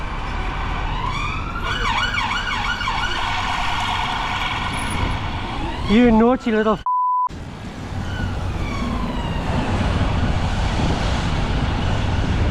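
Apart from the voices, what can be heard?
emergency vehicle sirens in traffic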